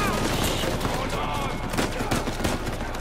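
Heavy gunfire from a mounted gun in the action game Uncharted 4, a dense, continuous fusillade of rapid shots pounding steadily, with voices faintly mixed underneath.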